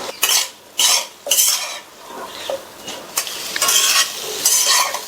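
Potato fingers tossed with chili powder, turmeric and salt in a pan: loud bursts of metal spoon scraping and stirring come in repeated strokes over a light sizzle, close and alone.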